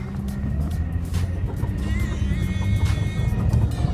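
A 2.5-litre, 194 hp Jaguar X-Type with an automatic gearbox accelerates, its engine a steady, close, loud low rumble under road and wind noise with no talking.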